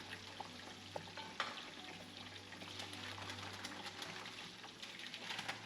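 Catfish frying in a pan, giving a steady, quiet sizzle and crackle with faint spits of oil and a low hum underneath, no talk.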